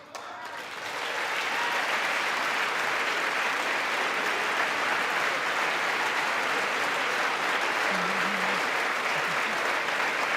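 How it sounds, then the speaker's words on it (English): Sustained, thunderous applause fills the chamber of the U.S. House of Representatives, a large crowd clapping evenly and loudly for the full stretch with no pause. "applaud for Ronald Reagan"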